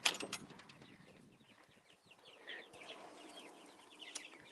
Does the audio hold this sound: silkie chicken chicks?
yes